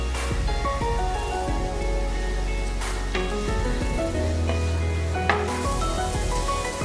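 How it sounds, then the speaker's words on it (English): Chopped onions frying in a pan, a steady dense sizzle with occasional clinks and stirring sounds, close and loud throughout, no talking. "Cook the onion until it becomes soft."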